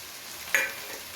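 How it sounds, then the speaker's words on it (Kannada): Onion fries in a pan as tomato and peas are added: one sharp stirring scrape over a soft, low sizzle, close by with no voices. "ಈರುಳ್ಳಿ ಚೆನ್ನಾಗಿ ಫ್ರೈ ಆಗೈತೆ. ಟೊಮೊಟೊ ಹಾಕ್ಕೊತಾ ಇದ್ದೀನಿ."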